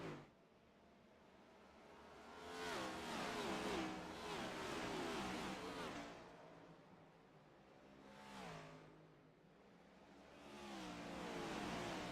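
Race cars circle Richmond Raceway in the iRacing sim, engine drones rising and falling as cars sweep past in waves, with a steady roar between passes and no talk.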